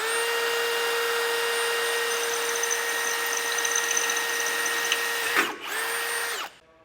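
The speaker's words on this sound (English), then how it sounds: "we will have to drill out a hole in the bottom of our frame rail" A power drill whines steadily and loudly while boring a hole up to half an inch through a steel frame rail of a 2024 Cadillac Escalade, pitch holding constant, then briefly dips and bites before spinning down to stop.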